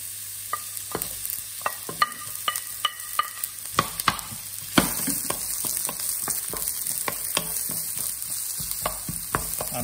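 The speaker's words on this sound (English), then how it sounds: "Don't want to color it, just gently sweat it so that flavor of ginger and garlic gets released in the oil" Onions, ginger and garlic sweat gently in oil over medium heat, giving a soft, steady sizzle broken by frequent sharp clicks and scrapes of stirring.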